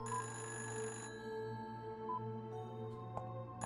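A telephone rings steadily and repeatedly in the point-and-click horror game Fran Bow. The bright electronic ringing is fairly loud and carries on for several seconds against a humming background, with no talk over it.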